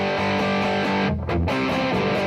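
Heavily distorted electric guitar chords through a Caline CP-27 Sandstorm distortion pedal set around 50% ring out continuously and loud, with a brief dip in the sustained buzz partway through.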